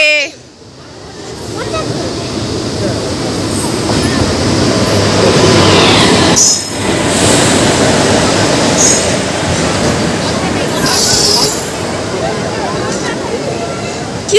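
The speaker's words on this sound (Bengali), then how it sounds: "তো দেখো বন্ধুরা আমাদের ট্রেন চলে এসছে" A train pulls into a station on the route to Krishnanagar, a loud continuous rumble with wheel squeals and clanking building and holding throughout, while people speak over it.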